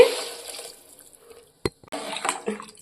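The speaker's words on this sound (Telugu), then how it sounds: "వెజిటేబుల్స్ని 5 మినిట్స్ ఉడికించుకున్న తర్వాత వాటర్ అయితే పోసుకోవాలండి" Water is poured into a pot of cooked vegetables for one-pot bisibelebath, a splashing pour that fades, then a short sharp splash and a few brief sloshes.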